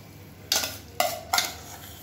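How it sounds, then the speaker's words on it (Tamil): Three short splashing, rattling bursts as soaked rice is poured into a boiling pot for tomato rice, each followed by a brief fading hiss. "இப்போ நம்ம ஊற வச்சுருந்த அரிசியை சேர்த்துக்கலாம்."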